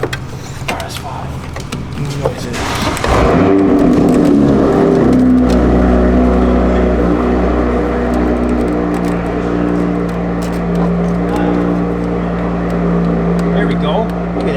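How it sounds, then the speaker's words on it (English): A car engine cranks and catches, then settles into a loud, steady idle after being fitted with a new intake and exhaust, the low rumble running continuously close to the microphone. "Start the car."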